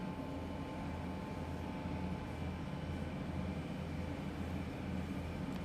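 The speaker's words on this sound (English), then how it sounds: "doing a bit of the old train driving today" A diesel freight locomotive in the Train Sim World 2 game, on Sand Patch Grade, drones with a low, steady engine hum and rail noise, continuous and fairly quiet.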